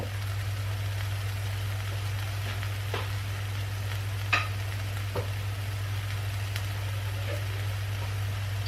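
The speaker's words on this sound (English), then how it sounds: "So now I'm going to add my coconut milk." Fish curry simmers with a steady low sizzle over a constant hum as coconut milk goes in, with a few sharp ticks and splashes, all fairly quiet and with no talk.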